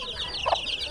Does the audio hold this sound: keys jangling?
no